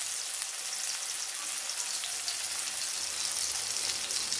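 Onions sauté in a pan for an egg chukka gravy, giving an even, close sizzling hiss like light rain that holds steady throughout with no voices.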